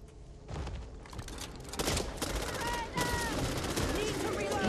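Rapid bursts of gunfire in the Back 4 Blood zombie shooter, dense automatic shots building in loudness over a few seconds amid chaotic game noise, with a voice talking.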